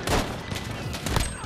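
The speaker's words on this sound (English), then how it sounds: "I shot you twice!" Rapid automatic gunfire from Call of Duty Modern Warfare, loud and continuous with dense overlapping shots across the whole moment.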